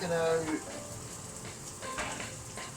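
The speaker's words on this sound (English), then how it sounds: "I'm just going to fry off these onions." Onions fry in a pan on a burger van, giving a continuous crackling sizzle with a brief clink of utensils near the start.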